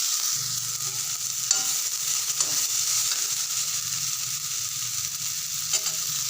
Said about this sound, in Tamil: பெரிய வெங்காயம் போட்டு நல்லா வதக்கி எடுக்கிறோம்